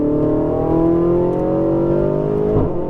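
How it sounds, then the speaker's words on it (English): A Ferrari 488 GTB accelerating on a race track, its engine note climbing steadily in pitch as it revs hard, loud and close, with a brief shift-like break near the end. "Squeeze throttle, go."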